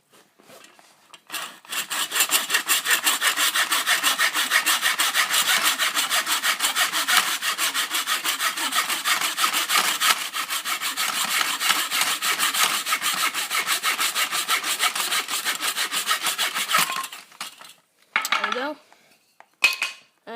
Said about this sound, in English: So back to the miter saw,